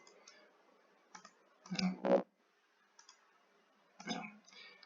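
A computer mouse clicks in a few sharp, close bursts with short quiet gaps between them, a handful of clicks over several seconds while a door is placed in Revit, with no voice.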